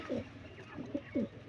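Sialkoti blue-eyed breeder pigeons give a few soft, low coos, faint and spaced about half a second apart against quiet background noise.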